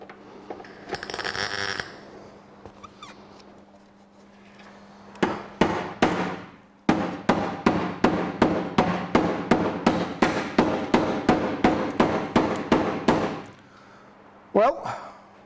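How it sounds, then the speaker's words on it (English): A hammer bangs on a welded Mustang metal panel to shape it, a sharp metallic strike followed by a quick, steady series of about twenty loud ringing blows, close by, with a brief scrape before and one last hit after. "the welds have held to allow me to bash that into shape"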